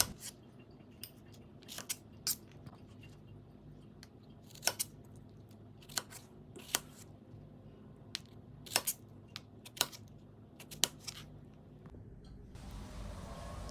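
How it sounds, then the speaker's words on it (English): Fresh, ripe strawberries cut into small pieces with a knife on a board, quiet sharp taps scattered irregularly over a soft low hum, with no voices. "Now we'll cut this into small pieces."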